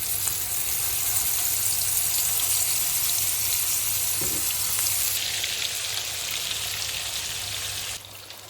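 Meatballs fry in rendered sheep tail fat for a Sivas-style fried dish, giving a steady, close, loud sizzle with fine crackling spatter that runs unbroken throughout, then drops slightly at the end; nobody speaks.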